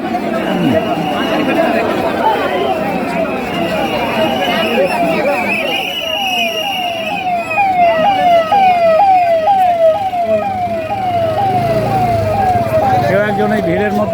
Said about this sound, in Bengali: তাকে অ্যাম্বুলেন্সে করে সরিয়ে নিয়ে যাওয়া যাচ্ছে